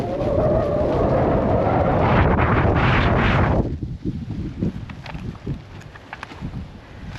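Strong wind buffets the outdoors while a large trampoline is being assembled, a loud broadband roar for the first few seconds that drops to gustier, uneven rumbling with scattered knocks.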